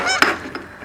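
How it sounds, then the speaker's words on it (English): A goose honks at a beach setting, a few short nasal calls in under a second, fairly close and clear with no talking over them. "It's a goose."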